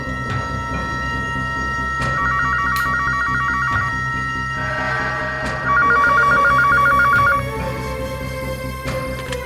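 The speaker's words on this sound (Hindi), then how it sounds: "फोन लगा के देखता हूँ, घर पे होगा तो फोन जरूर उठाएगा" A telephone rings in two bursts of rapid trilling bells, loud and close, with a pause between them and background noise underneath.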